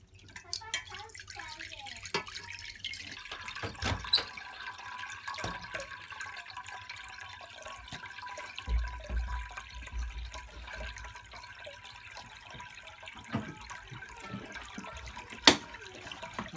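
Water draining from a blocked washing machine with a stuck drain plug, pulled out through a vacuum, producing dripping and gurgling flow with occasional thuds and bumps over a low background.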